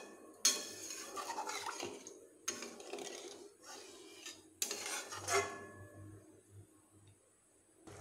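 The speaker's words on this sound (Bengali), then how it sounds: "এবার এই মশলার সঙ্গে জলগুলোকে এইভাবে ভালোভাবে মিশিয়ে নিচ্ছি।" Water and spices being mixed in a pot, a utensil knocking and scraping against the metal in three bursts of clatter and stirring, close and fairly faint, with quieter gaps between.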